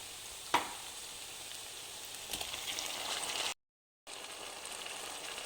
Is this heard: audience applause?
no